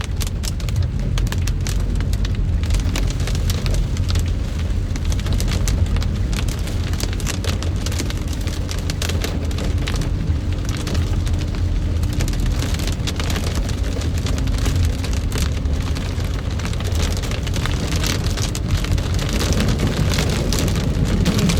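Heavy rain pours steadily in Jeddah, a dense continuous hiss with a low rumble underneath, like traffic moving in a downpour.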